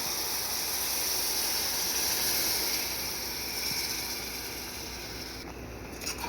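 A loud, continuous steamy hiss from a hot pan after a cup of water is added to vada curry masala, easing slightly toward the end, with no voices.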